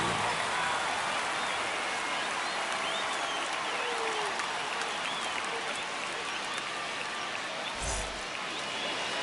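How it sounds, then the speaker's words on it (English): Dense, steady roar of a baseball stadium crowd cheering and applauding ahead of the season opener between the Red Sox and Rangers, a continuous wash of noise at constant loudness with a brief low thump near the end. "the crowd is amped up, ready to get this season underway"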